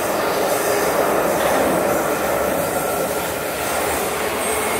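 A London Underground train arriving at a station rumbles steadily and loudly, a dense continuous roar of wheels and motors on the track with no voices.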